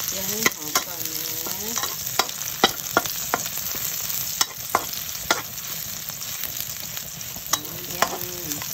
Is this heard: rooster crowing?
no